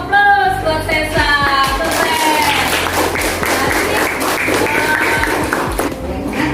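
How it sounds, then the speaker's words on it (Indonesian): Classroom applause for a student named Sesa during a cooperative-learning lesson, a steady burst of clapping from the group that fills the whole moment, loud and close, with some voices calling out over it. "Kita kasih aplaus buat Sesa."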